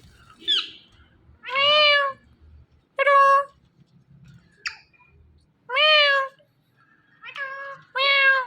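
A talking parrot imitates a cat's meow, giving a string of clear, rising-and-falling mewing calls with short gaps between them, close and fairly loud against a quiet room.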